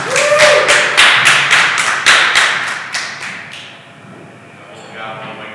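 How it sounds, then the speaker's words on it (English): Audience applause for the cast and crew at a film Q&A for a horror comedy, a burst of loud clapping with sharp rhythmic claps that fades over several seconds into quieter crowd murmur. "Big round of applause."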